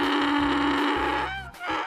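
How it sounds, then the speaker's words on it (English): A donkey brays loudly and close up in a single drawn-out call lasting about two seconds, its harsh, honking tone shifting near the end, with no other sounds around it. "Donkey sound is hee-haw."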